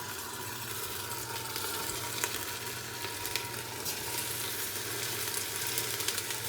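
Onion sizzles in hot oil in a pan, a steady, dense crackling hiss that holds close and even throughout with no talk.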